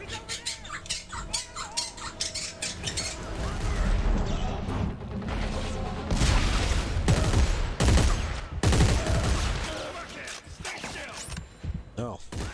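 Video-game gunfire breaks out in a dense, loud burst of shots and clattering over game sound, with excited voices talking throughout.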